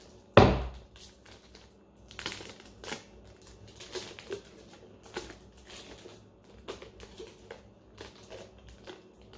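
Adhesive tape is handled while taping a cellphone: a loud crackling tear at the start, then scattered softer crinkles, rubs and taps at irregular intervals, close by with no talk.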